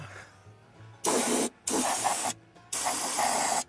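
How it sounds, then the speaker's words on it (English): Small air compressor driving a spray gun that applies rust-proofing to a truck: three loud bursts of hissing spray, each about a second long, separated by brief pauses with a low motor hum. "This little compressor is getting it done, believe it or not."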